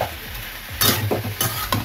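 A spoon stirs banana flower curry with boiled chickpeas in a hot pan, with a loud close sizzle and several quick scraping strokes against the metal, no voices present.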